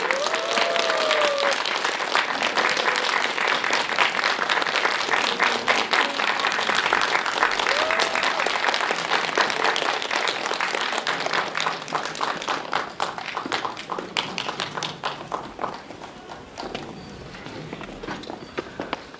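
Sustained, loud applause from a theatre audience fills the room as a film director and lead actor are welcomed onto the stage at a movie screening Q&A, dense clapping continuing steadily and easing slightly toward the end.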